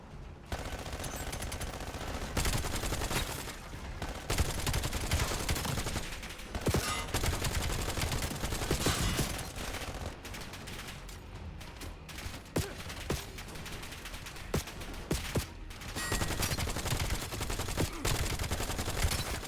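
Sustained automatic turret gunfire in the video game Black Ops 7 campaign, a dense continuous clatter of rapid shots with loud bursts and explosions layered throughout, no talk.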